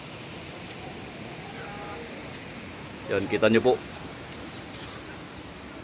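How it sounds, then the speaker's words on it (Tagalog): Strong wind from Typhoon Kristine roars steadily through a wooded area by a poultry farm, a loud continuous rushing that fills the whole stretch, with a person briefly talking in the middle. "malakas po yung tunog ng hangin."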